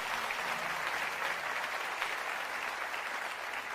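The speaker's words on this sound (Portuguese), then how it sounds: "Uma salva de palmas para nosso Senhor." Church congregation applauding for the Lord during a Portuguese-language service, a steady wash of clapping that holds evenly for several seconds, with faint low musical tones underneath near the start.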